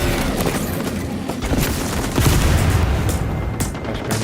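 In a video game, a flashbang grenade and gunfire ring out in a dense barrage of loud shots and booms, with a heavier burst midway, no speech over it.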